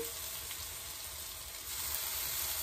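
Cashew and spice paste with cumin, salt and turmeric hits a hot pan for masala egg curry, giving a steady, close sizzle and hiss that swells slightly toward the end, with no talking.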